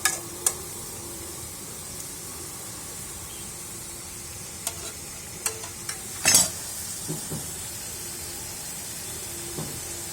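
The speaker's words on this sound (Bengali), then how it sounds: "আবার একটু নাড়াচাড়া করতে হবে, এইভাবে শুকাইলে সুন্দরভাবে নাড়াচাড়া করে নেবেন।" Food frying and being stirred in a pan in a Sundarbans outdoor cooking setting: a steady soft sizzle throughout with a few sharp scraping clicks of the utensil scattered across it, no talk.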